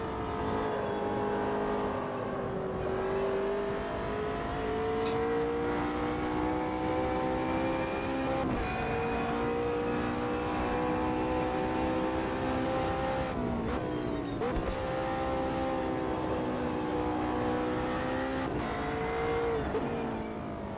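Race car engine in Automobilista 2 drones and revs continuously with gear shifts and shifting pitch, loud and close, as the car rides over curbs, with no talking.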